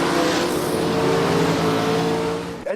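A drag racing car roars along the Santa Pod drag strip, a sustained loud engine howl with rising revs that fades and cuts off near the end.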